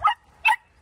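A small dog barks twice, short sharp yaps spaced about half a second apart, fairly close and otherwise quiet.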